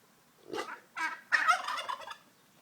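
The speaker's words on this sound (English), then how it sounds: "That's the turkey." A farm turkey gobbles nearby in three quick rattling bursts, close and fairly loud against a quiet background.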